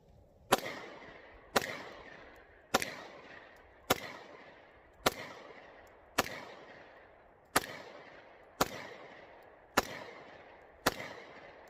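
A Taurus TH9C pistol fires about ten shots in a steady, unhurried rhythm, each a sharp crack followed by a short decaying echo, with no talk between.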